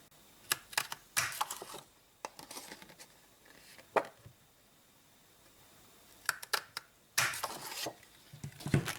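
A paper craft punch cuts out small stamped paper flowers, giving quiet, close clicks and clacks in short bursts separated by pauses, like light mechanical snaps.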